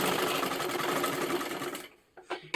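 A sewing machine runs a steady, continuous stitch along silk fabric, buzzing close and even for nearly two seconds before stopping, followed by a couple of short bursts as it starts again.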